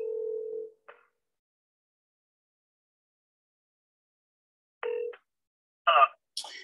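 A telephone line sounds while a call is placed: a short steady tone, a long silence, then another brief tone and a few clipped electronic bursts.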